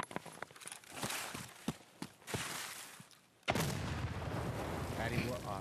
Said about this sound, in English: Throwing another nade in the bush.